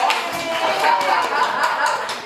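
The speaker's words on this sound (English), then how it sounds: "Why don't you clap for the person sitting next to you real quick?" An audience claps at a church talk, a dense burst of hand clapping that keeps up steadily and close for the whole stretch.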